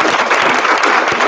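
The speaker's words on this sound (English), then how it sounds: "Another round of applause," Brief burst of dense audience applause at a conference keynote, loud and continuous for just over a second.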